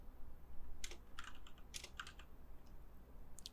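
A computer keyboard taps out a short burst of keystrokes as a search term is typed, faint and close, in irregular clusters over a quiet room hiss, with no voices.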